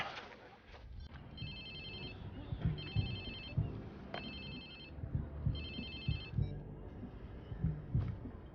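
A phone rings in the video game Watch Dogs 2, sounding as a repeated electronic ringtone in regular bursts over about eight seconds, with game ambience and low sounds underneath.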